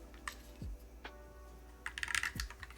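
A few scattered keystrokes on a Frog Leggera mechanical keyboard with bright switches, then a short quick burst of close, crisp clicks near the end, quiet overall with some low thumps.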